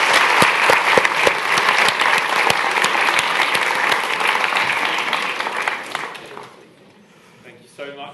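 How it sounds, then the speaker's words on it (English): Audience at a tech festival in a lecture hall applauds the AI and ethics panelists, with sharp individual claps standing out in a strong crowd ovation that dies away, followed by a voice starting to speak. "So please join me in giving a round of applause to the panelists."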